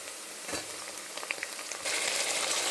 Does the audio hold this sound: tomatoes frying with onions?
yes